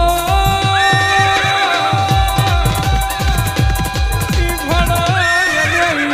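Loud, continuous horse neighs and whinnies ring over steady rhythmic thumping, forming a busy, energetic mix with no talking.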